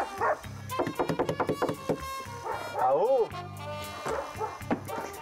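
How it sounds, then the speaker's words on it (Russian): A dog warned of as vicious barks in a rapid burst of several sharp yips near the start, mixed with people talking and exclaiming close by on a street visit. "Обережно злый пес. Злый пес."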